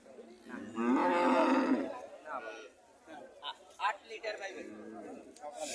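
A desi cow moos loudly in one long, drawn-out call, followed by quieter livestock sounds and people chattering nearby.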